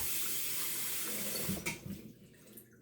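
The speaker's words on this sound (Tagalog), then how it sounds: "hugas na po yung ating potato." Tap water runs steadily into a sink while potatoes are washed, a continuous close hiss that breaks up into splashes and fades partway through.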